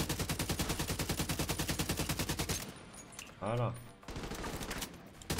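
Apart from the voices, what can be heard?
gunfire from video game The Division 2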